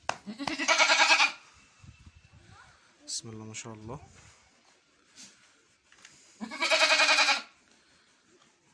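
A sheared Barki sheep weighing 57 kilograms bleats twice, loud and close, with long harmonic cries at the start and near the end, while someone speaks between them.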